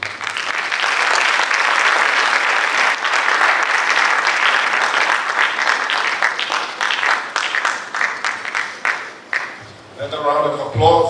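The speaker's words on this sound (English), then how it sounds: "Another round of applause." Applause from an audience at a university reform alliance gathering, dense sustained clapping for several seconds that thins toward the end as a voice begins speaking.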